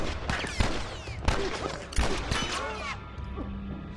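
Gunfire in The Last of Us, several sharp shots cracking in quick succession with impacts and clatter in the game mix, fading into quieter background ambience near the end.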